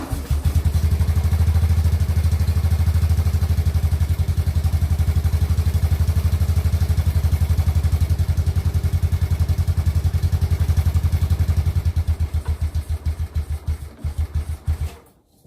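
A 1998 Yamaha Big Bear ATV engine runs on choke with a loud, close, rapid chugging putter that stays steady and then sputters and cuts out near the end.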